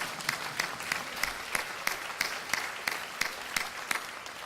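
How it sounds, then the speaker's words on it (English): An audience at a university's 50th anniversary celebration, during a presidential address, claps in a sparse, rhythmic patter, with sharp individual claps evenly spaced and moderately loud for several seconds. "yeah, we can clap for Chris."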